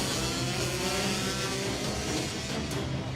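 Engines of NSF100-class racing motorbikes pull away from the start in a loud, continuous, steady roar, with some rising revs and no pauses.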